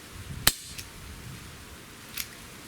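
A Colt Python .357 CO2 air revolver fires on a cool day with one sharp, close crack, followed about two seconds later by a softer second click or snap, with no speech.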